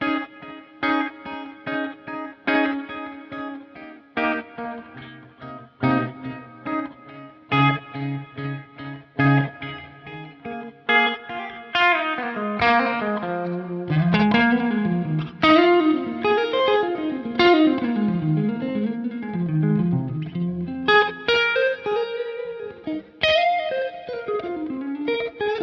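Electric guitar run through a Helix with a Bluesbreaker-style drive into a clean Dumble-style amp tone, played alone: plucked chords and single-note lines, then a busier, ringing lead passage with chorus-like shimmer and sustained notes.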